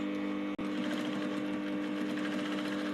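A sewing machine stitches the boning lines of a corset with a steady, close, continuous whir, broken only by a brief stop near the start.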